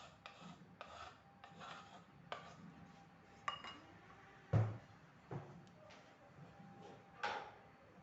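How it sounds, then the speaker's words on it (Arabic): A bowl is set down and handled on a kitchen counter while preparing chopped herbs and garlic for a Moroccan fava bean soup, giving several separate knocks, rubs and clinks, the loudest a solid thump near the middle, all close and moderately loud with no talking. "هنا غنجيب واحد الاناء غادي نوضع فيه هكذا هاد الربيع وهاد الثومه"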